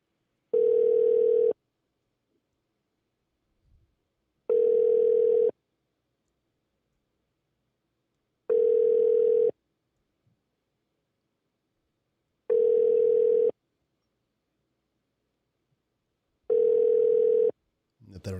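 Five evenly spaced tone bursts, each about a second long with roughly three seconds of silence between, play on a telephone line while an inmate call from a federal prison camp is transferred to an operator.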